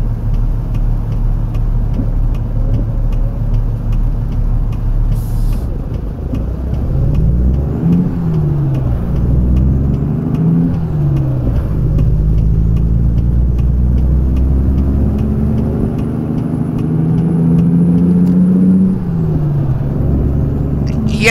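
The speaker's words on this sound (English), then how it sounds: "And the 3406 is a great sounding engine." Caterpillar 3406 truck engine in American Truck Simulator revs and drones continuously, with rising and falling pitch sweeps as it climbs through gears, loud and steady throughout with no talking.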